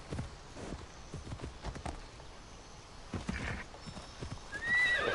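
Horse in Assassin's Creed Odyssey video game, hooves clip-clopping in a steady rhythm, then a loud whinny near the end; no talk over it.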